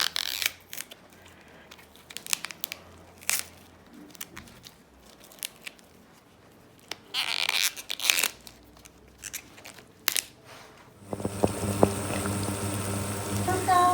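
Water comes to a boil in a cooking pot, a steady rolling bubble and hiss that starts only in the last few seconds, after scattered quiet kitchen handling noises.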